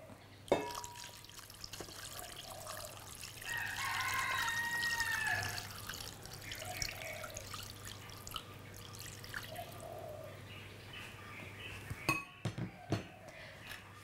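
Chicken stock is poured into a soup pot of Balinese jackfruit soup, a quiet liquid trickle and splashing with a few faint clinks of the pot, ending in sharper clinks.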